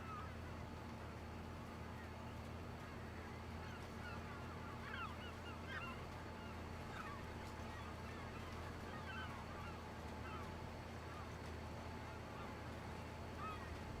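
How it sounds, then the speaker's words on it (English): Geese honking in Farming Simulator 25 on the Witcombe Park Farm map, a scattered run of short calls rising over a steady farm ambience with a low engine hum and intermittent talk. "The birds are back."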